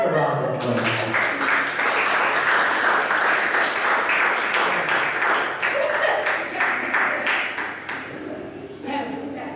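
An audience at a motivational talk gives a round of applause, a dense, sustained clapping wash that begins abruptly, holds strongly, then gradually thins out while voices carry on underneath.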